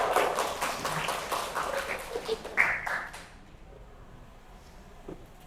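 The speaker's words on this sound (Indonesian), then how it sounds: "tepuk tangan dong" Students clap in a classroom, a brisk flurry of many overlapping hand claps that carries on for about three seconds and then stops abruptly, leaving a quiet room with one faint tap near the end.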